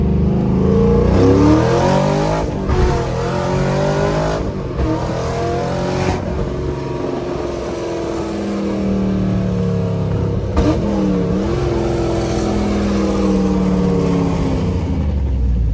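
A Lexus RC F sports car engine roars loudly and continuously, climbing through revs with brief dips as it shifts down, close and without talk.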